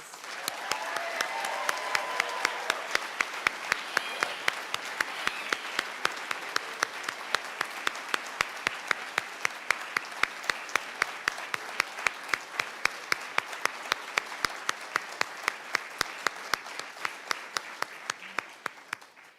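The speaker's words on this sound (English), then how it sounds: "How about we give all of our students another round of applause?" Sustained applause from a crowd at a nursing school pinning ceremony for graduating students, steady and full for about eighteen seconds with a few faint voices early on, then tapering off at the end.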